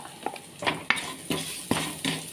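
Onions with turmeric powder sauté in a pan, heard as a low sizzle broken by several sharp stirring scrapes and clinks of a spoon against the pan, close up and without voices.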